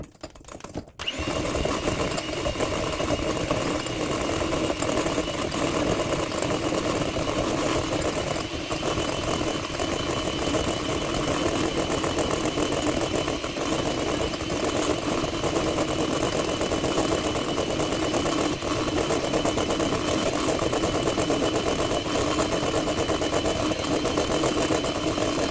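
An electric mixer whirs continuously, beating four egg yolks with sugar at a steady, loud, unbroken speed for the whole stretch, with no talking.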